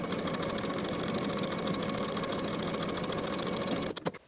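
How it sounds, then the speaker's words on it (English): A sewing machine stitches a sleeve's underarm seam in a steady, close run of rapid needle strokes, then stops abruptly near the end with a few clicks. "Sew the underarm seam with a 1/2 inch seam allowance and press the seam open."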